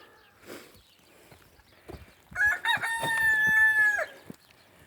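A few soft clucks, then a loud, close rooster crow that rings out for a couple of seconds before fading.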